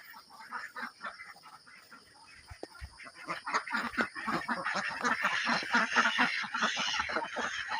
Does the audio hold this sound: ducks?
yes